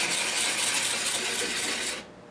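A vinyl-faced scrub block rubs steadily against the routed pocket of a Strat guitar body, making a dense, close, continuous rasping scrape that stops abruptly near the end.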